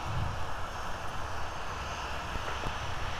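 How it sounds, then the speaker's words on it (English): A Sun Country airliner in simplified livery taxis past on a taxiway at Minneapolis–Saint Paul airport during winter de-icing operations, giving a steady, continuous engine roar at moderate distance with no talk over it. "Sun Country taxiing on Whiskey in front of us in the simplified titles livery."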